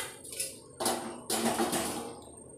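A spoon stirs Ettangadi puzhukku, the Thiruvathira puzhukku dish, in a pot on the fire: a few metallic scrapes and clanks against the pot, close and clear, in two or three bursts with quiet gaps.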